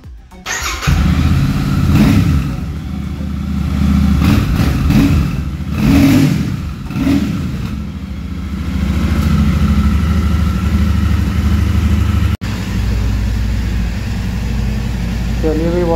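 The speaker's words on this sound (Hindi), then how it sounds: "और एग्जॉस्ट साउंड आपको सुनाते हैं इस गाड़ी का कैसा है।" Royal Enfield Super Meteor 650 motorcycle exhaust revving repeatedly, loud and close, with throttle blips rising and falling over a steady idle rumble, then settling into a sustained drone.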